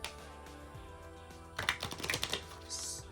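Playing cards are shuffled and the deck is cut at a table: a faint hum, then a quick run of crisp, papery riffling clicks and taps close by, with no talk.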